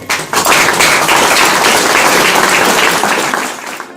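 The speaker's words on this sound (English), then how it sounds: "give a round of applause for all the SSA organisation, and Julie in particular" A round of dense audience clapping for conference organisers at an England event, loud and steady for several seconds before tapering off at the end.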